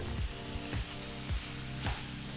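Cooked beetroot is stirred in a hot pan: a steady close sizzle with rhythmic scraping strokes of a spoon roughly every half second.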